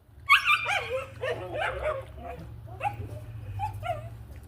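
Magnum, a puppy, gives a quick run of high, close yips and barks mixed with whimpers, over a low background hum.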